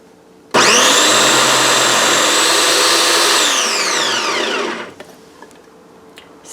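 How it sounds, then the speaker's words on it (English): A Cuisinart Smart Power Duet blender food processor whirs loudly for about four seconds while puréeing vegetable soup, a steady high motor whine that dips in pitch as it winds down, then stops, leaving a few small clicks. "So quick with this Cuisinart Smart Power Duet blender food processor"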